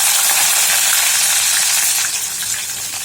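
Onion with cumin frying in a hot pan: a loud, steady hiss and sizzle fills the whole stretch, easing slightly toward the end, with no voices.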